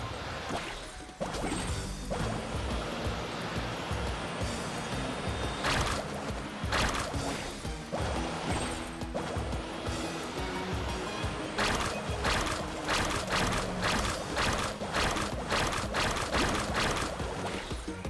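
In the Genshin Impact video game, a boat carves through ocean waves with continuous loud rushing and crashing water, broken by splashy impacts throughout.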